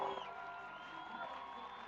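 A large crowd at a live event in Las Vegas, cheering and whooping as a broad, steady roar that sounds somewhat distant.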